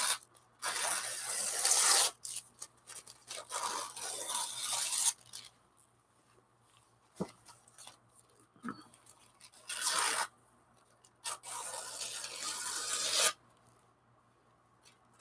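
Excess collage paper is torn and rubbed off by hand in several rasping bursts of a second or two each, separated by quiet gaps with a few faint taps, close and moderately loud.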